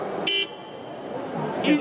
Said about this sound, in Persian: بوق شاهین رو داشت